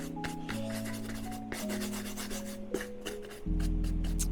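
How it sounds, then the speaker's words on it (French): Plastic-bristle brush scrubbing dried dirt off Red Wing boots in a workshop, a steady close scratching rasp with faint tonal hum underneath and no speech. "Une brosse à poil en plastique, juste pour enlever vraiment le plus gros sec"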